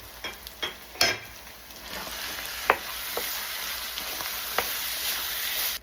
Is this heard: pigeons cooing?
no